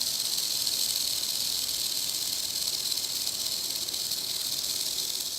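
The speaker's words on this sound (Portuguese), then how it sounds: "As cascavéis utilizam desse som para alertar da sua presença." A rattlesnake shakes its tail rattle in a continuous, steady, dry buzzing hiss that holds at an even, moderate level for several seconds with no voices.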